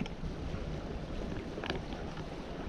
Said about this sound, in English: we finally got enough wind to sail, going about 4 knots, just tacking my way up to the Yuculta rapids right now